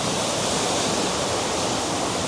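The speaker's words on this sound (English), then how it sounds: "That waterfall's gorgeous." A waterfall pours in a steady, dense, full rush of falling water, loud and continuous with no breaks, heard alone without voices.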